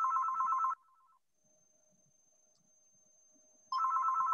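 A telephone ringtone plays loud and alone in two repeated bursts with a quiet pause between them.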